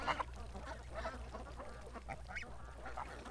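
About a hundred ducks in a large outdoor pen, a faint chorus of scattered quacks and low calls over a steady background hum, some distance away.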